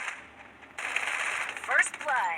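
Rapid gunfire in a mobile battle-royale style shooter game, a dense crackling burst of repeated shots under excited game chatter and voices talking.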